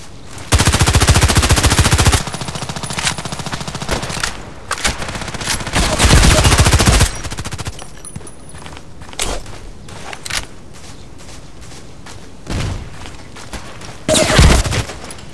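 Rapid automatic gunfire from an SR3M compact assault rifle in the online shooter Contract Wars, loud bursts and sustained volleys alternating with single shots and quieter gaps during a deathmatch.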